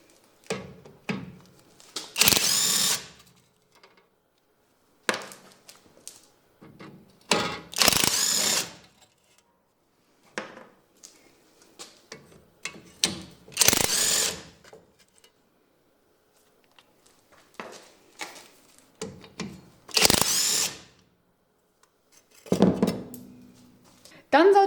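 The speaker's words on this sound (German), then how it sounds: "Dafür schraubt man die 4 Schrauben mit einer 10er Nuss" A ratchet with a 10 mm socket loosens the four bolts of a brake dust shield on a BMW E87/E81/E88/E82, clicking in short, separate bursts with quiet pauses between, close and fairly loud.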